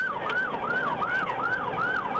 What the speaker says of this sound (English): the deputy activated his emergency lights and siren